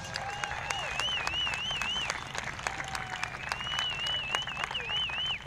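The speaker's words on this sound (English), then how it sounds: "Let's welcome them with a big round of applause." A crowd at a charity Honor Bowl event in University City, California applauds with sharp claps, mixed with high wavering whistle-like tones.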